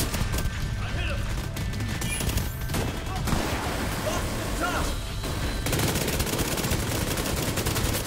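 Dense, rapid submachine gun fire in The Division 2, continuous bursts of automatic shots running throughout with brief gaps, close and loud amid battle noise.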